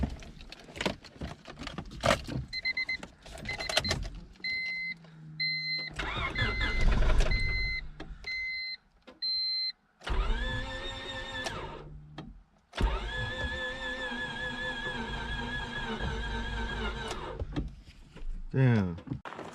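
A $100 Honda Civic is cranked over in repeated attempts, with bursts of starter whirring and engine noise separated by pauses, followed by a longer steady running stretch; door and interior clunks and a voice are heard nearby.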